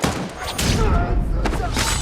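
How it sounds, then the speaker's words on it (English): Rapid bursts of gunfire crackle amid heavy thuds and dense action noise, with voices mixed into the loud clamor. "Gunfire erupts."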